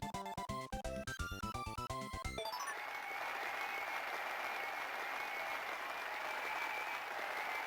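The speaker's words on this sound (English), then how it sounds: "Everyone's cheering for me." In the Kirby Squeak Squad video game, a short musical jingle gives way to a steady wash of crowd applause and cheering that holds at an even level to the end.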